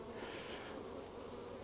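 Honey bees buzzing inside an opened hive during a fall honey inspection, a steady close hum without pause and no voices.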